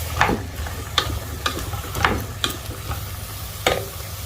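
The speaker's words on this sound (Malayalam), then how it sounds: "പച്ചക്കറി ഒന്ന് ആ എണ്ണയിലിട്ട് തന്നെ ഒന്ന് വഴറ്റി എടുക്കുകയാണ്." Vegetables for Kerala-style butter sambar sautéed in oil and stirred with a ladle: a soft continuous low sizzle under a handful of sharp scraping strokes spaced about half a second to a second apart, close and moderately quiet.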